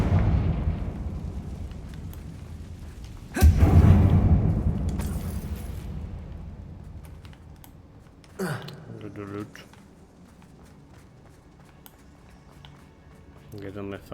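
A Confringo fire spell exploding in the video game Hogwarts Legacy, one loud booming burst followed by a long fading rumble, with a player speaking under and after it.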